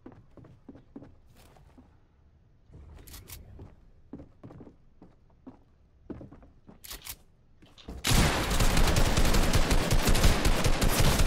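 Video game gunfire: sharp, isolated shots and short bursts scattered irregularly over several seconds, fairly close, then a sudden loud, dense wash of noise takes over for the last few seconds.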